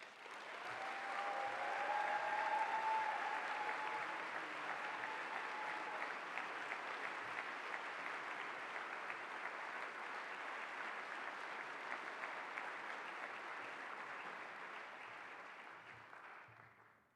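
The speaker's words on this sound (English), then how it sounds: "A big round of applause for Dee." A large university convocation crowd applauds an award-winning staff honoree, a broad sustained wash of clapping that swells early, holds steady, then fades away.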